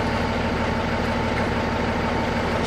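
Heavy truck diesel engine idling steadily at close range during a CDL air brake test, a continuous low rumble with no pauses or speech.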